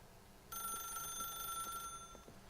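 A phone rings in The Stanley Parable video game, a bright, steady electronic ring that starts suddenly and carries on for about a second and a half before fading, with no talking.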